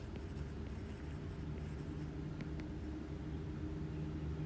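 Faint scratchy strokes of writing on a board during a polymer lecture sit under a steady hum of room noise, with a few brief taps and no talk.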